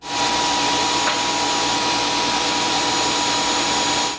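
A Dreame H11 Max wet-dry cordless vacuum running continuously at close range, a loud steady motor whine with airy rushing noise throughout, no talk.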